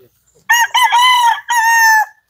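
A rooster crows loudly and close on a large chicken farm, one long harmonic call broken into segments, standing alone against a quiet background.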